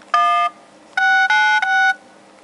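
Keypad dialing tones from a Vionic L phone's dialer: one clear dual-tone beep, a short pause, then three beeps in quick succession, crisp and close with no talking.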